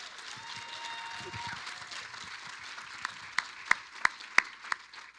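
Faint audience applause at a community talk on creativity and social change, a soft wash of clapping that thins to a few loud, distinct single claps near the end, with a voice briefly heard early on.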